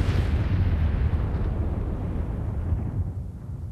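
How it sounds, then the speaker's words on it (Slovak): A booming explosion effect portrays the primordial fireball bursting, a loud deep rumble that hits at once and slowly fades over several seconds with no voices. "Pred miliardami rokov táto guľa vybuchla."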